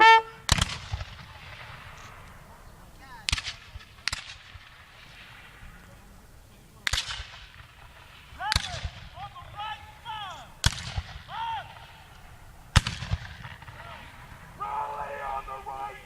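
Musket volleys ring out at a Civil War reenactment at Appomattox: about seven sharp, loud, separate reports come at uneven intervals, with shouted commands and other voices between the shots.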